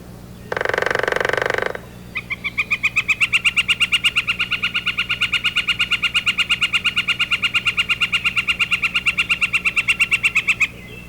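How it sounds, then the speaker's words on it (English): A northern flicker in an elm tree in a backyard gives a short burst of rapid drumming, then a loud, steady series of evenly spaced calls lasting several seconds, close and clear with no talking. "we hear a rapid drumming sound, followed by a loud series of calls"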